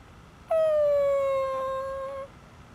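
Koromaru the dog from the video game Persona 3 lets out a single clear howl that lasts just under two seconds, starting high and sliding slowly lower, with no other sound around it.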